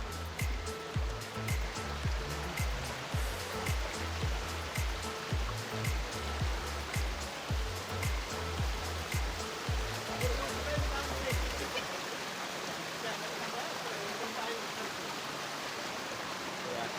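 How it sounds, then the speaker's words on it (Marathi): Nanemachi waterfall roars somewhere in the jungle as a steady broadband rush of falling water, with rhythmic footsteps crunching along the trail over it for most of the clip before the footsteps stop and the water noise continues alone. "धबधब्याचा आवाज यायला लागलाय आता"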